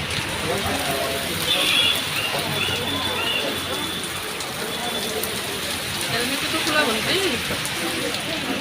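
Steady rain falls in a dense, even hiss of drops on surfaces outdoors, close and continuous throughout, with faint traces of muffled voices underneath.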